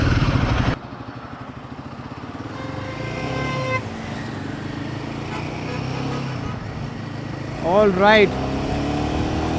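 A Royal Enfield Himalayan 450 motorcycle engine runs steadily up close, then revs up sharply near the end, with a brief spoken remark at the start.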